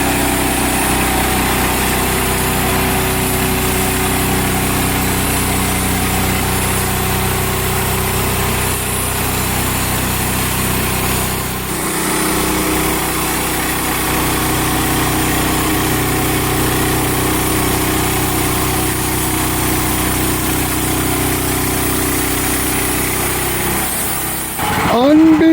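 A Hud-son Patriot sawmill engine runs at a steady, close, droning pitch while cutting boards from a log, holding constant for over twenty seconds with a brief dip midway and a shift near the end.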